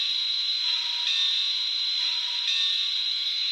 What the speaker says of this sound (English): We'll just throw the bell on.